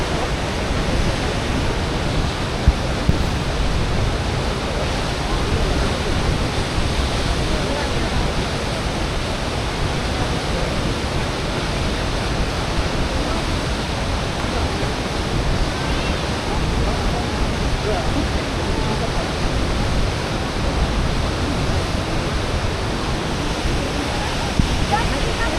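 The Pöllat River roars below Neuschwanstein Castle as a waterfall crashes through the gorge, making a loud, unbroken broadband rush that stays constant throughout.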